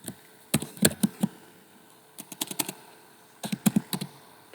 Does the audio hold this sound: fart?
no